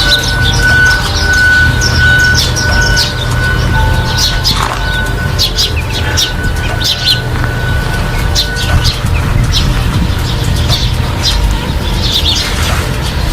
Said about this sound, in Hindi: सिर्फ चिड़ियों की चहचहाट सुबह सुबह के टाइम इतनी प्यारी लग रही है